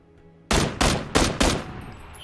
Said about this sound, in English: I was shooting at something